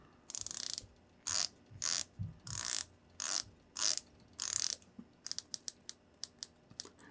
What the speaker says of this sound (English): Really solid bezel action.